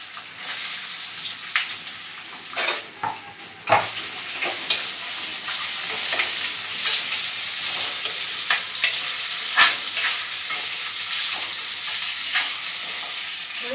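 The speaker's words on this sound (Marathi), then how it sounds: "मीठ टाकून ना कांदा असं बटाटा परतला ना लवकर भाजते." Onion and potato sauté in a pan with salt, giving a steady hiss of frying punctuated by repeated scraping stirs of a spatula at irregular intervals, close and without talk.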